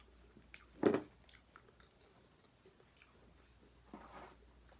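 Chewing of Captain Crunch Chocolaty Berry Crunch cereal, gone soggy in milk, heard as one distinct close bite and soft mastication sounds in a quiet setting.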